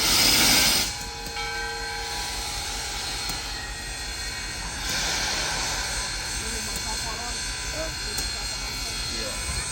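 A steam locomotive rumbles along steadily with a broad mechanical roar and hiss, louder at first, with no voices rising above the noise.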